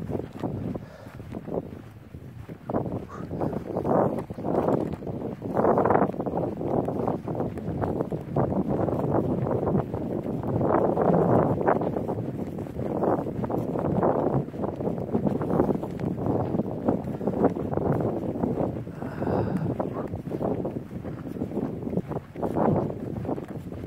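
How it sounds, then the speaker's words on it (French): Wind blows steadily across the open Malzéville plateau on a summer walk, buffeting the microphone in loud, gusting rushes throughout. "il y a du vent, mais là, ça fait du bien le vent"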